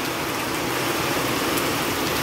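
A steady, dense hiss of rain falls on a roadside during a halt in heavy weather and fills the whole clip evenly at fairly close range, with no voices.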